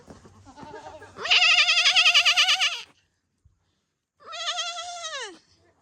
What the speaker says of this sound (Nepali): जुनुको घरमा जुनुहरूको त फेरि बाख्रा कति धेरै छ ल हेर्नु त